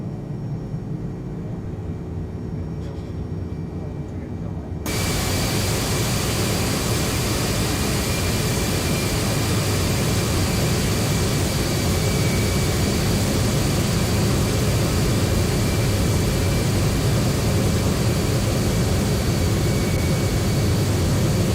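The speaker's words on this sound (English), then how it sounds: "The sounds are reasonable in this aircraft." Jet engines of a Boeing 767-400 ER in the X-Plane 12 flight simulator: a quieter cabin hum for about five seconds, then a sudden jump into a loud, steady, broadband engine roar with a faint high whine that continues alone.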